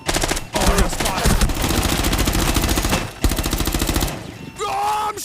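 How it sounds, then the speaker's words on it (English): Dense automatic gunfire in Rainbow Six Siege, loud and close with rapid repeated bursts, a brief gap, then more firing, ending in a tonal game cue. "Oh, I'm shooting at everything!"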